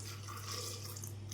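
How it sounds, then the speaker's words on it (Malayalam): Water runs steadily from a tap or is poured while cooking green peas masala in a home kitchen, a continuous close splashing rush with a low steady hum beneath. "ആവശ്യത്തിന് വെള്ളം ഒഴിച്ചു കൊടുത്ത്"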